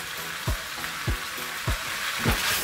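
Tofu and vegetable stir-fry sizzling steadily in a pan as cabbage goes in, with four evenly spaced low thumps from tossing or stirring over a constant hiss, close and moderately loud, no voices.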